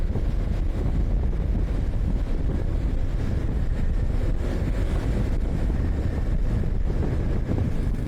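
Constant heavy wind buffets the microphone, a loud, rumbling roar that never lets up, with no voices.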